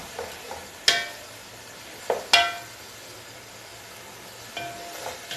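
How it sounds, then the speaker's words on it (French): Sautéed folong greens with prawns being stirred in a pan: a few sharp scrapes and clinks of the utensil against the pan over a faint, low sizzle. "Donc on mélange bien le tout ensemble."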